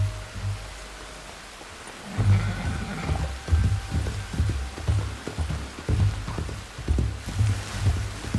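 Steady rain in the video game Red Dead Redemption 2 patters down with a soft hiss and scattered drops, with faint thumps and taps over it.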